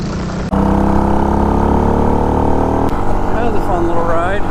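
An RPS Condor CG250 motorcycle runs steadily on a trail, its engine droning loud and close with a brief shift in tone partway through and faint whistly sounds over the top.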